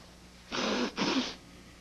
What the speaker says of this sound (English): Blow your nose.